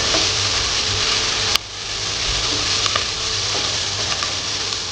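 Ginger dropped into a pot of softened onions fries with a steady, loud sizzle, broken once by a brief sharp click and a faint stir, then the hiss carries on evenly.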